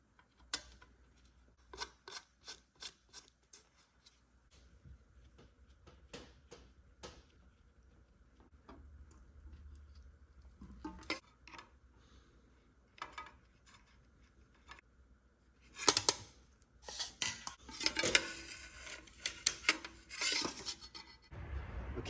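A threaded bung is MIG-welded onto a hand-made steel chopper gas tank. Scattered clicks and metal handling come first, then dense, crackling weld bursts that grow louder in the final seconds, with no talking.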